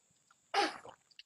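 A single sharp sneeze bursts out close by, loud and breathy, then trails off over about half a second, with quiet surroundings before and after.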